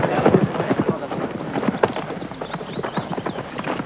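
Horses' hooves clip-clop in a busy, overlapping rhythm as Normans mount up, loud and close, with voices and other commotion mixed in.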